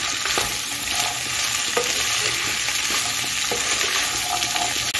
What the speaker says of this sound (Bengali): এখন আমি সবজিটা একটু ভালো করে ভেজে নিচ্ছি।